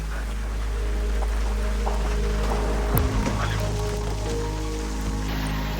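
Heavy rain pours down on a sailboat at sea en route to Fernando de Noronha, a loud, steady wash of drops with deep wind rumble, and a brief thud partway through.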